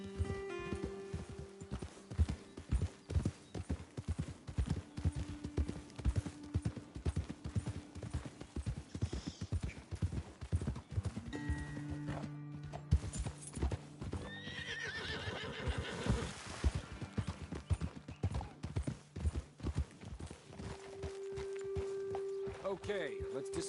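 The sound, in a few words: horses' hooves clip-clopping, from a video game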